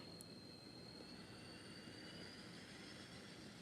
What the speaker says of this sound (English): And I bet you it will just pull this train no problem.